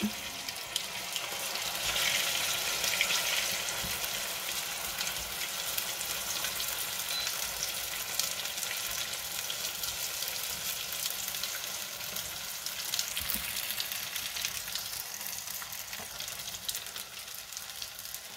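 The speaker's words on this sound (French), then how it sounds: "Et je vais venir faire frire mes nems. Mon huile est bien chaude." Chicken nems deep-fry in hot oil in a pan, giving a steady, dense sizzle and crackle that runs continuously at close range with no talking.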